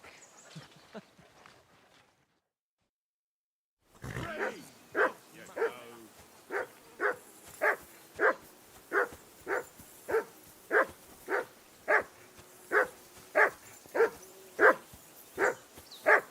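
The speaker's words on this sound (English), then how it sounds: "Call off that mutt of yours!" A dog barks repeatedly in Kingdom Come Deliverance 2, a game set in a wilderness camp on a riverbank. A voice speaks first, then after a brief silence comes a steady run of loud, evenly spaced barks that are near and clear.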